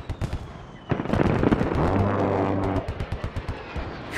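Mortar shells exploding in the Squad military shooter game during a 100-player hillside firefight, a burst of loud overlapping booms and crackling blasts followed by a rolling rumble and scattered sharp reports, with no talk.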